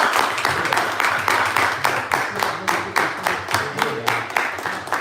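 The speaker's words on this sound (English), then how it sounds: "Can we get a round of applause for the sisters?" An audience claps in a steady rhythmic beat for a group of sisters, roughly a dozen evenly spaced loud claps over a low background murmur.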